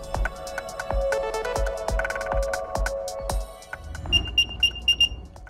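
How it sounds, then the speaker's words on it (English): An Apple AirTag plays a rhythmic electronic chime, a steady pulsing pattern of tones that ends in a quicker run of higher beeps, loud and close with nothing else over it. "That's the beep of an Apple AirTag."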